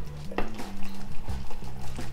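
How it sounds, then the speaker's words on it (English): A spoon stirring homemade sugar wax in a pot on a stove, soft scraping and clinks against the pot under a low bubbling hum, close and moderately loud. "Keep stirring it so that you can make yourself wax at home"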